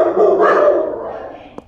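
A single short bark from a puppy, close and fairly loud, fading out with a brief click at the end.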